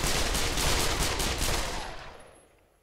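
Gunshots in a VR shooting game on the HTC Vive headset, a fast loud string of cracking rounds that runs for about two seconds before trailing off into quiet.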